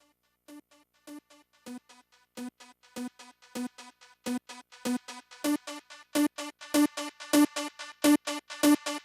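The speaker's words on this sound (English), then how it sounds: "I want to slowly fade in the synthesizer" A chopped synthesizer sample repeating in short rhythmic stabs, starting faint and swelling steadily louder and brighter over several seconds, alone with no speech.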